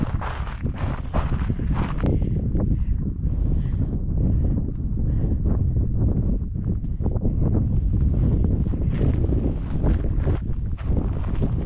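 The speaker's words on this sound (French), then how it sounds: "Ici en hauteur, il y a un peu plus de vent" Wind gusting on a high mountain hillside on Montaña Santa Catalina, loud steady roar buffeting the microphone throughout with rustling and light footsteps.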